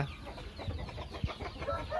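Fighting cocks cluck softly in low, scattered bursts against a quiet, murmuring farmyard background.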